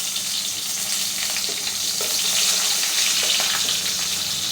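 Green chillies sizzle in hot oil with peanuts in a pan for ragi upma, a steady bright crackling frying hiss with faint stirring, close and continuous without talk.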